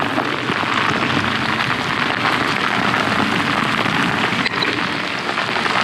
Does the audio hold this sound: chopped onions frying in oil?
no